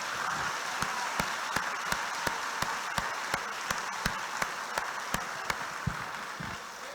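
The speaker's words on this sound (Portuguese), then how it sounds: "Vamos aplaudir Jesus novamente." A church congregation applauds in a dense, sustained wash of clapping, with one nearby pair of hands striking a sharp, regular beat roughly every third of a second throughout.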